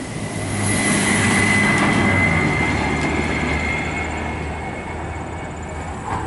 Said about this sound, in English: Here goes one of the trucks, actually.